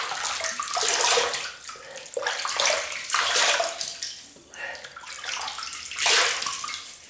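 Hot water running from a tap in a sink while someone wets their face before a wet shave, a close, steady rushing with splashes that swell and ease in repeated waves.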